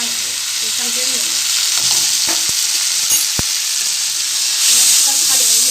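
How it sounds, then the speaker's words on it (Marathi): Chilli potato being stirred in a hot pan after vinegar is added: loud continuous frying hiss with a few sharp taps of the spoon on the pan, swelling slightly near the end. "मस्त हलवून घ्यायचं."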